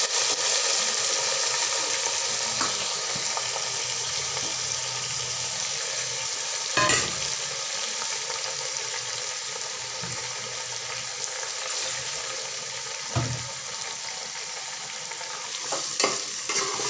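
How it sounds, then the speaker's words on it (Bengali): Mutton fries in a handi under a long, steady sizzle, with occasional louder scraping stirs breaking through at intervals, close and continuous with no talk. "ভালো করে ধরে নাড়াচাড়া করতে হবে, না হলে পড়ে যাবে।"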